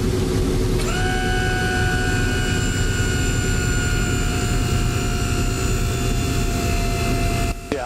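A B-17 Flying Fortress's piston engines drone loud and steady while it taxis, a constant rumble with sustained tonal hums that hold for the whole stretch, with no talk.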